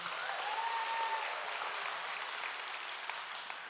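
A church congregation claps and cheers, a dense, steady wash of applause that holds for several seconds with a faint whoop near the start.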